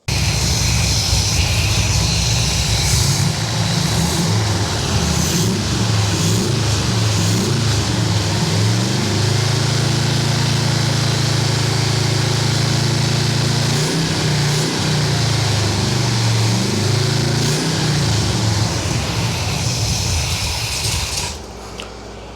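1978 Corvette L-82 V8 running through side pipes, a loud, rough, continuous rumble with uneven surges that holds for about twenty seconds before dropping off at the end, no voices.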